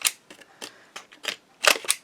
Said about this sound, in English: I'm going to just cut